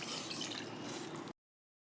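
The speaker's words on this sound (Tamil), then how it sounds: "ஒரு 2 கப் அளவுக்கு தண்ணி ஊற்றிக்கிடுவோம்" Water poured into a wide pot, a steady close splashing rush lasting just over a second before cutting off abruptly into silence.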